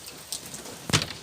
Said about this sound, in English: this rain will never stop raining